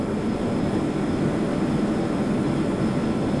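MiG-15 jet engine in the Flight Simulator X video game, a steady, loud, dense roar with a thin high whine running over it, no talk.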